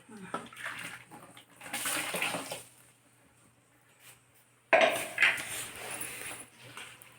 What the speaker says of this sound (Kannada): ಈಗ ಅದಕ್ಕೆ ಸ್ವಲ್ಪ ನೀರು ಹಾಕೋದ ತೊಳೆದೆ